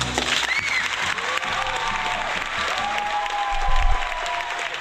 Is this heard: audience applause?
yes